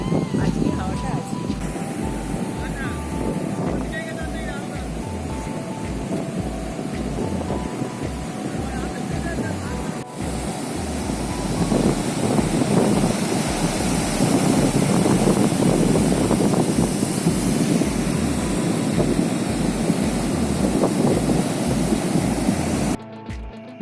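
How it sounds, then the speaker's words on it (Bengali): Strong wind buffets the microphone at Golden Beach, with a constant roar of surf and gusts building louder midway, while a voice talks throughout. "আজকে হাওয়াটা আছে।"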